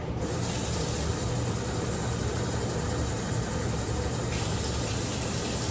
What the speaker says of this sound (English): you're gonna do 2 cups of water and put it in here